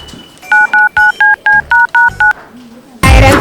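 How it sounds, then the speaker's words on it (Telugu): A telephone keypad dialed during a phone call, sending a quick run of eight evenly spaced DTMF key tones at a steady rhythm, clear and close, followed by a short burst of louder noise. "నా పిల్లానికి ఫోన్ చేస్తా."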